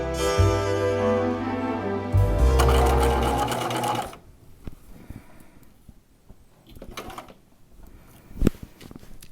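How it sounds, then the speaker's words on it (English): A sewing machine stitches elastic onto a gown's panty in a loud, fast continuous whir that stops abruptly, followed by quieter handling noises and a few clicks and taps. "Actually, I want to sew this from the picot side."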